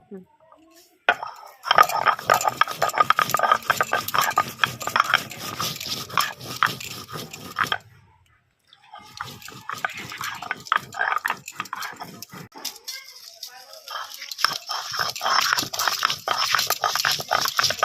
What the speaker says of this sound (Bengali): এবার এগুলো বাটনা হবে আদা জিরে নিয়েছি এটা বাটবো